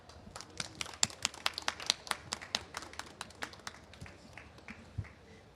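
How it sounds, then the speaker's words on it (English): Faint, scattered handclaps from a small audience at a panel session on healthy soil, a sparse uneven patter of individual claps that thins out toward the end. "please let's clap for them."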